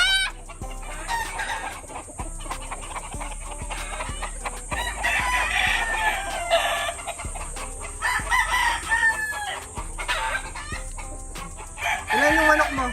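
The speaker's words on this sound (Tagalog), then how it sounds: "Ang daming manok." Farmyard chickens on a rural farm cluck and squawk continuously, with a rooster crowing loudly near the end, over a busy, close mix of bird calls.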